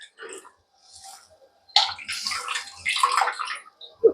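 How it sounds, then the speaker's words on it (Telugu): Soaked tamarind water is poured from a vessel into simmering fish curry, a close liquid splash and gurgle that starts after a few faint knocks and runs on in uneven surges before a final clink. "ఈ చింతపండు నానబెట్టుకున్నాం కదా, దీన్ని ఇలాగా ఇందులో వేస్తున్నాం."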